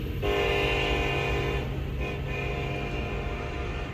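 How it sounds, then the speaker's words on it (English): A train rolls past close by with a loud, steady rumble of wheels on rails, and a sustained horn blares over it and then breaks off briefly. "I feel obligated to wave at trains every time they pass me."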